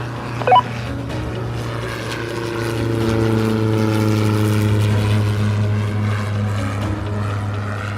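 A small propeller airplane takes off from runway 5 at Fort Wayne. Its engine drone is loud and steady, swells slightly as it gathers power, and a brief knock comes near the start.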